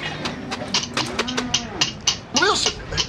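Cattle mooing as a radio drama sound effect, with several drawn-out lowing calls and a rising bellow near the end over a busy background of clatter.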